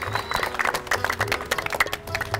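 A crowd at a street circus unicycle act in Kabul's Shahr-e-Naw park claps in short, uneven bursts of nearby hand claps, fairly loud, with voices mixed in underneath.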